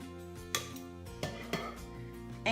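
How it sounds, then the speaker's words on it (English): Steamed asparagus spears tipped into a blender in a home kitchen, giving a few sharp clattering knocks against the jar at scattered moments over a low steady background hum. "You just dump them straight in the blender."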